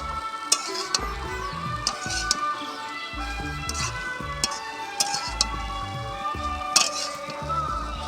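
Kanda poha, flattened rice with onion, stirred in a pan: continuous soft scraping and dry rustling broken by sharp ticks of the spatula hitting the pan, moderately close, with no talk.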